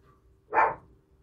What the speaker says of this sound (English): you get to hear my dogs bark